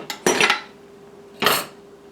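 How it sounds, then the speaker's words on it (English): A spoon clanks and scrapes twice against the metal pot of an Instant Pot while stirring green chili chicken enchilada soup, two short close bursts with a quiet gap between. "let's get it stirred up"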